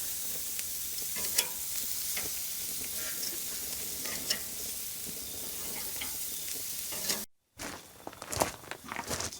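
Lebanese kabobs sear on a grill with a continuous bright sizzle, broken by scattered crackles and tong clicks and one brief dropout near the end, heard close and with no voices.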